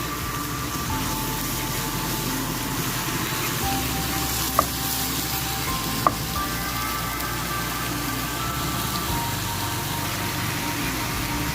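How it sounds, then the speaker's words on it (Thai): Kimchi stir-frying in a pan makes a steady, dense sizzle that holds evenly throughout, with two brief sharp ticks partway through, heard alone with no talking. "ผัดกิมจิให้หอมก่อน จนน้ำกิมจิแห้งอ่า"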